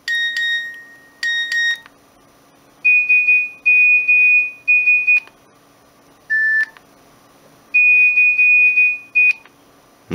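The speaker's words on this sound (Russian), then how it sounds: "сигналы сообщений вот есть" A Nokia 1280 mobile phone plays a run of its message alert tones, short bright electronic beeps in separated bursts with pauses between, clear and alone.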